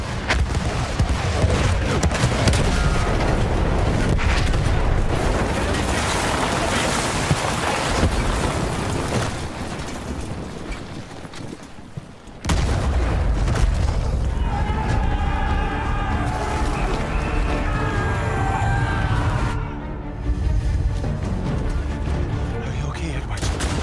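Artillery fire in Battlefield 1, heavy booms and rumbling blasts pounding steadily through a loud wartime battle, with shouting voices among them, a brief lull midway before the bombardment resumes.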